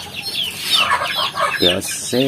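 Free-range village chickens in a rearing coop make a busy run of overlapping clucks and short squawks, fairly loud and near, with a few sharper calls toward the end.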